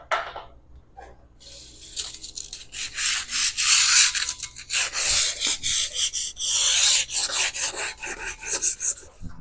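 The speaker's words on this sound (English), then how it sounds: "I'm just going to deburr it. And I'm going to sand all the edges just with a" Metal edges being deburred by hand with a piece of 60 grit sandpaper, giving close, loud rasping strokes in an uneven back-and-forth rhythm, with short pauses between bursts.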